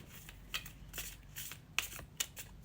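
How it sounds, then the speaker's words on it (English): A deck of tarot cards being shuffled: soft riffling and papery rustles with a few sharper slaps, close and fairly quiet, with no voices. "Let's shuffle your deck to see what message you need to hear."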